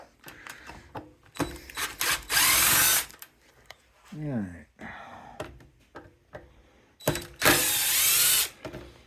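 A power drill drives Torx T20 screws during an edger carburetor repair, giving two loud whirring bursts of about a second each, with light handling clatter and a brief spoken remark between them.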